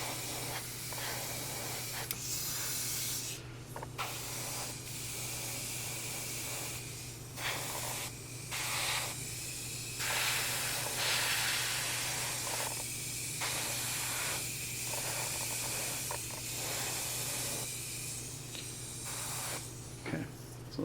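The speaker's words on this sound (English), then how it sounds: "those areas just get darker naturally from the spraying of the paint" Spray paint hisses onto a quarter-scale Deadpool figure in steady bursts, some long and some short, close and fairly loud, with brief pauses between passes.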